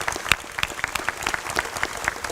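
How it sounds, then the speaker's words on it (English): A crowd claps steadily in a brief burst of applause, hands patting at an even rhythm with no talking. "Let's give them a round of applause."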